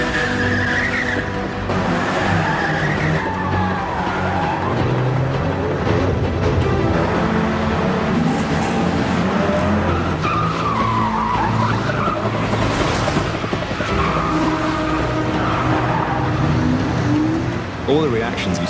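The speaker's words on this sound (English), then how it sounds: "we are spinning around doing handbrake turns" Tires squeal and skid as a car spins through repeated handbrake turns during a stunt for Mission: Impossible - Fallout, the engine revving loudly throughout while voices shout and react over the continuous screeching.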